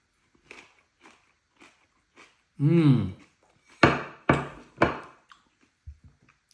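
Crunchy bites of a spicy, tangy, healthy Indian-style salad with Indian savories, a few loud crisp crunches and chewing sounds close up, with quiet pauses between bites and no talking.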